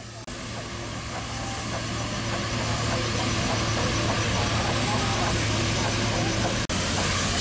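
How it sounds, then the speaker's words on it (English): A steady mechanical chugging and rumble of a steam traction engine driving a small sawmill at an outdoor steam fair, continuous and loud, with a brief break near the end. "we've got the steam engine powering a little sawmill here, look."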